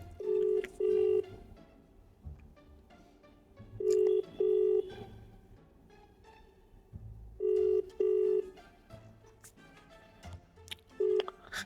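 Repeated paired electronic tones in short bursts, like a phone ringback, recurring four times with quiet gaps between them.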